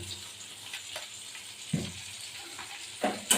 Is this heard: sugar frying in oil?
yes